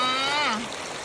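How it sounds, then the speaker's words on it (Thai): A waterfall in a large forest during heavy rain produces a steady, broad rushing wash of water that continues evenly, with a brief voice-like tone near the start. "น้ำตกในป่าใหญ่จ้า"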